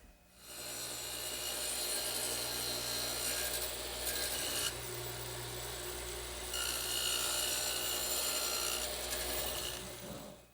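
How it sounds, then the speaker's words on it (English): A radial arm saw fitted with a dado head cutter shaves wooden tenons to thickness, a continuous loud, gritty, whirring grind lasting about ten seconds with slight surges as the cut changes, close up with no talking. "I'll cut the thickness using my radial arm saw and the dado head cutter"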